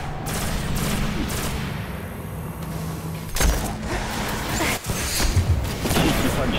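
Dense gunfire and grenade blasts from the Destiny shooter game, Shrine of Oryx on hard mode, crackle in rapid bursts with a few heavy booming hits, loud and continuous for several seconds.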